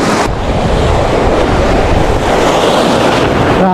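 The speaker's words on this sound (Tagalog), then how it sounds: "Ang lakas talaga ng alon mga master." Strong ocean waves crash and churn continuously as the weather turns rough, with heavy wind buffeting the microphone in a loud, unbroken roar.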